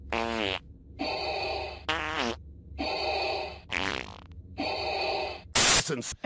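A series of loud, buzzing farts in separate bursts of about half a second each with short gaps between them, then a harsh crackling burst at the end.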